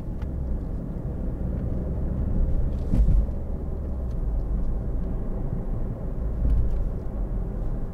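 A 2013 Ford Focus 1.6 TDCi ECOnetic diesel hatchback takes a roundabout, heard from inside the cabin as a steady low engine and road rumble. The drone is continuous, with a couple of slight thumps along the way.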